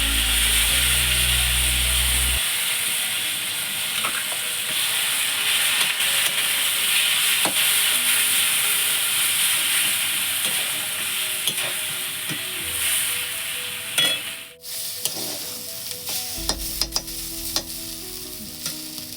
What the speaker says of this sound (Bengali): ভাজা হয়ে গেছে পিঁয়াজটা এবার পেঁয়াজটা ভাজা হয়ে গেছে এর মধ্যে এবার তিল বাটাটা দিয়ে দেবো